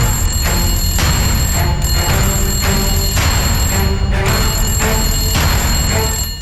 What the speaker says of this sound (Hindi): इनके घरों तक फोन की घंटी घनघना चुकी है